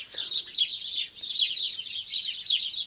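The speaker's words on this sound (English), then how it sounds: "And it's just full of birds." Birds chirp and sing in a garden of honeysuckle, jasmine, roses and brambles. Bright, overlapping high tweets come in rising and falling bursts, with no voices.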